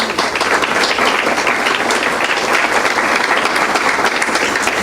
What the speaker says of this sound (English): please applaud one more time as we welcome Dr. John Pinheiro